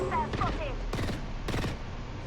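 Gunfire in the video game Apex Legends cracks out in two sharp bursts, loud and close, with a brief electronic game tone just before.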